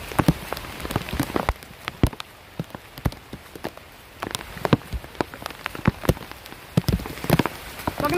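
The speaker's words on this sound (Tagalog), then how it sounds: "Lumakas na yung ulan." Heavy typhoon rain patters densely on a surface nearby, with sharp individual drops hitting hard over a steady wash.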